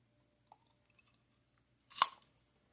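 A single loud, close crunch as a crisp candied cranberry is bitten, after a short stretch of near silence with a few faint small clicks.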